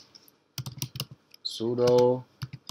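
Computer keyboard typing in short quick bursts of clicks, faint and close, interleaved with a person speaking briefly.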